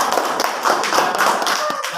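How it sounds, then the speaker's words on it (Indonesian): Audience applause at an education talk show in Majalengka fills the whole stretch, steady and fairly loud with dense overlapping claps and no speech. "Tepuk tangan untuk Ibu."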